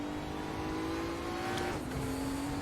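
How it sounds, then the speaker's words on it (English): A Group 5 race car in a VR racing game screams at full throttle in a steady, loud engine drone that holds high revs and then drops in pitch at an upshift partway through, with no talking over it. "full throttle on the way out when you know you can"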